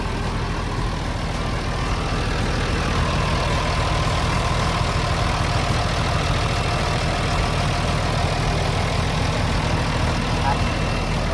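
A TCM L40 wheel loader's heavy diesel engine idles steadily up close, a continuous low rumble with a constant droning hum and no voices.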